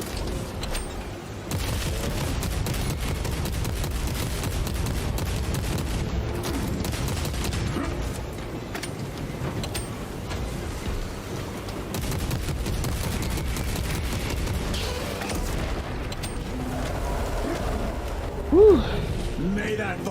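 Gunfire in Space Marine 2: steady, dense rattling bursts of shooting and booming impacts running throughout, with voices speaking over the battle.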